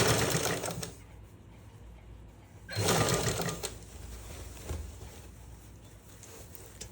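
A sewing machine stitches a sleeve onto a suit or blouse in short runs, its steady whirring motor broken by brief pauses and louder bursts, fairly close and heard alone without talk.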